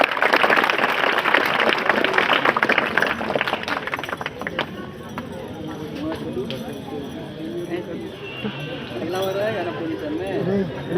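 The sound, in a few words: audience clapping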